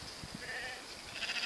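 A White Dorper ewe lamb bleating among a flock in a farm pen, a faint, wavering cry over a constant background of outdoor noise.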